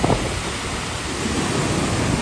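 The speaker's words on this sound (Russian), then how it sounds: "Сильнейший ветер." Strong wind roaring on a stormy sea beach at Lazarevskoye, with waves and spray crashing; a dense, steady broadband rush that stays loud and continuous throughout, with no voices.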